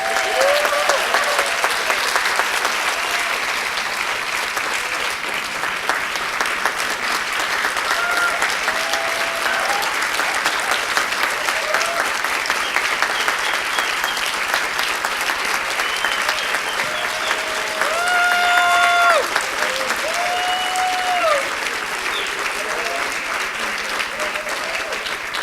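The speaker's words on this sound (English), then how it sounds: "please join me in honoring all of our award winners tonight with a round of applause" Sustained round of applause for award winners at a Peace Corps awards ceremony, a dense, even clapping from a large audience that carries on for the full stretch without letting up.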